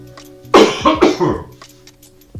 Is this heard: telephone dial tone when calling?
no